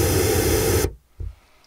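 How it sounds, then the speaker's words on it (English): Pink noise test signal from a small noise plug, a loud, dense, steady hiss covering the whole range that cuts off abruptly after under a second, followed by a faint low thump. "Let me just turn on the pink noise and give you an idea of what it sounds like."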